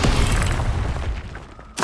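A fire spell cast in the Hogwarts Legacy video game, a dense booming rush of flame that roars loudly for most of the moment, fades briefly, then flares again at the end.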